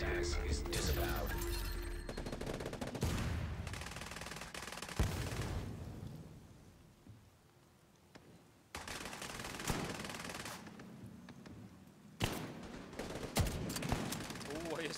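Division 2 gunfire comes in bursts of rapid automatic shots and explosions, with a quieter lull in the middle and more shooting afterward, under a speaker reacting over the game.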